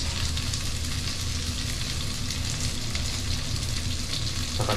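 Potatoes sautéing in a pan, a steady close sizzle and crackle of frying that runs without pause and grows a little brighter near the end.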